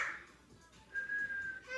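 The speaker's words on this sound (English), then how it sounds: "She's learning to try and whistle, so her whistle is a scream." A young girl tries to whistle, producing a thin, high, breathy tone that holds for under a second, fairly quiet, with faint child vocal sounds around it.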